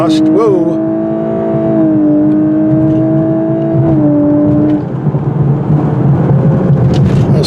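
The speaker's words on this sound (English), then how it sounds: "At least the exhaust sounds fast in sport mode" A 2022 Lexus LC500h V6 hybrid in Sport Plus mode accelerates with its exhaust open, giving a loud, sustained tonal engine note that climbs and shifts pitch through gear changes before fading into road roar.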